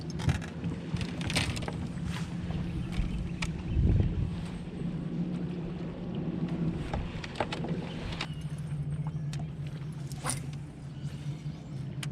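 A bass fishing boat rumbles on the James and Chickahominy rivers in Virginia during a tournament, a steady low engine drone with wind buffeting the microphone and occasional splashes and knocks throughout.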